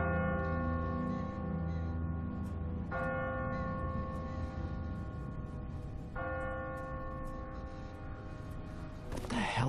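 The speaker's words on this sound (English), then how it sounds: "Ask not for whom the bell tolls." A church bell tolls in The Walking Dead video game, three slow, evenly spaced strikes about three seconds apart, each ringing out with a long humming decay over a steady low background, fairly distant and alone.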